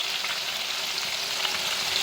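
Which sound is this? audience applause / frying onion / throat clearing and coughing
frying onion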